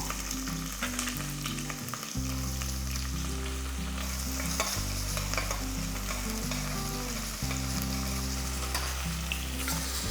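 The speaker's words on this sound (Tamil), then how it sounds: "வெங்காயம் இந்த அளவுக்கு நல்லா வதங்கிடுச்சு" Shallots and curry leaves fry in oil for a chicken gravy, giving a dense, continuous sizzle with scraping stirs throughout, while a steady low hum, likely from a kitchen appliance, runs underneath; no one speaks.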